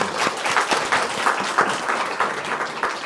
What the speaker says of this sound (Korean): 우리 박수 한번 서로에게 하겠습니다